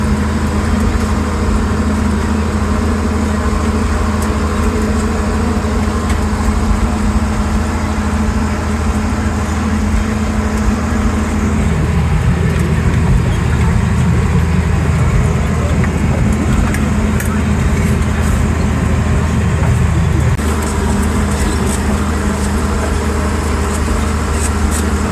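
A John Deere 4430 tractor driving in a field while pulling a sprayer, its engine a steady, loud low drone that shifts pitch midway, continuous and close throughout.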